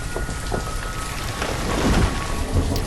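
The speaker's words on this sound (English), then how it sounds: "And now it's raining." Rain pours steadily with rolling thunder rumbling underneath in the city-building video game Banished, a dense, continuous storm wash that swells slightly louder toward the end, with no voices.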